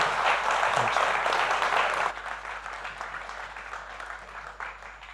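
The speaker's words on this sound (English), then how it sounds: "a round of applause" An audience at a business talk event gives a round of applause, a soft, fairly distant patter of clapping that fades to a lighter tail partway through.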